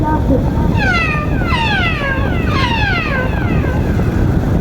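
A voice imitates a cat, giving several drawn-out meows in quick succession, loud and close.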